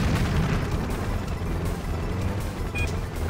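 A loud, sustained booming roar of a car-stunt video game explosion fills the clip, with rumbling bursts and crackling debris continuing throughout.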